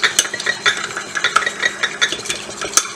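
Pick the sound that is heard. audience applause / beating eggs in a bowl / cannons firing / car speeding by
beating eggs in a bowl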